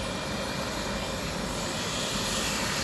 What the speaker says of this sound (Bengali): বেশ সুন্দর হেলিকপ্টার